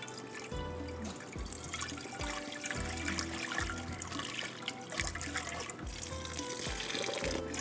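Boiled rice noodles being drained of their cooking water in a kitchen, a steady rushing pour and splash that continues throughout with gurgling and trickling.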